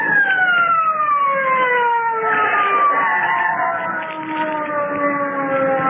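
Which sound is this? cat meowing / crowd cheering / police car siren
police car siren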